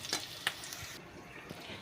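Red lentils tipped into lightly browned fried onions give a soft, steady sizzle with a few brief clatters of stirring, fairly quiet and with no voices.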